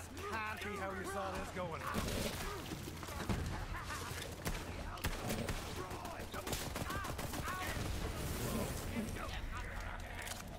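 Gunfire and explosions from an attack in the video game Borderlands 3, with dense, steady shots, bursts and crashes that run nonstop under loud excited talk.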